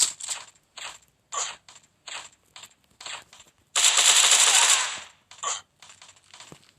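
Bursts of gunfire in the shooter game Offline Strike, a string of short separate shots followed by one long sustained automatic burst, then a few more quick shots, loud and close with no talking.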